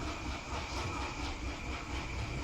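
A train locomotive engine in Derail Valley idles in neutral with a steady, close, rumbling drone and a constant hiss, unbroken by speech.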